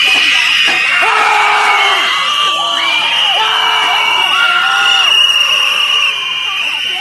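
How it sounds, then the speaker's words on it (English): Protesters screaming loudly at close range, several overlapping high wavering yells and shrieks running continuously through a dense crowd roar, very near and intense. "just surrounding them and just screaming their heads off right in their fucking ear"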